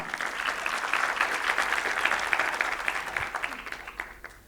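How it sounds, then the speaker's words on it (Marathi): An audience at Dr Vithal Kamat's lecture in Panvel applauds steadily for several seconds, a dense crowd clapping that thins and fades at the end. "टाळ्या द्याव, टाळ्या."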